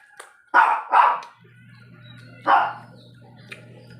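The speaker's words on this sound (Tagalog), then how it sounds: "Nagagalit yung isa kong ano asong shih tzu sa mga papis. Tinatahudan niya." A Shih Tzu barks in sharp bursts at its newborn puppies, two quick barks followed by a third after a pause, close and loud over a low steady hum.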